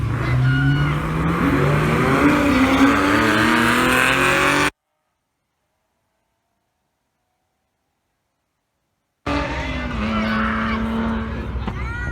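Corvette, a fairly stock car, accelerating hard on a drag strip run, a loud engine roar rising in pitch through gear changes, broken by a stretch of silence before the roar resumes.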